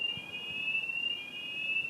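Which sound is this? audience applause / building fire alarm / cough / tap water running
building fire alarm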